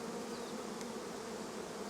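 Honey bees in a productive hive give off a dense, continuous buzzing hum, close and steady throughout, with no voices.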